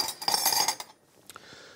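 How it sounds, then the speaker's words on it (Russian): A spoon scrapes and clinks against the bottom of a pot of boiling rice in a quick stirring burst, then a couple of lighter taps. "Сейчас я рис со дна перемешаю, чтобы он не пригорел"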